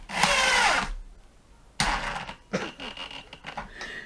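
DeWalt 12V brushless DCF801 impact driver running in two bursts, a loud whirring spin that stops and then starts again, close up, without the expected hammering impacts.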